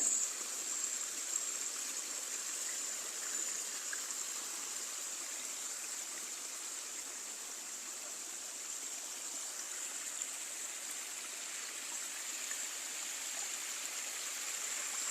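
Steady forest stream flowing continuously, a broad even wash of running water, fairly close and alone with no voices.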